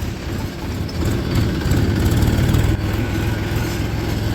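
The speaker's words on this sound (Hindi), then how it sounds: "ट्रैक्टर की आवाज़ बहुत दबंग है" A tractor engine runs with a steady low rumbling throb, loud and close, its pitch holding even throughout, at a sugar mill.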